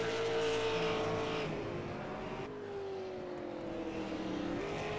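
Race cars circle the Las Vegas Bullring oval on the final lap of a non-winners race, engines droning loudly and steadily with pitch sweeping as cars pass, continuous roar without talk.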